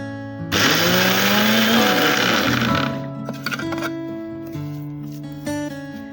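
A mixer grinder grinding spices including turmeric whirs loudly, its motor pitch dropping as it strains, then cuts out, leaving a low hum and scattered clatter.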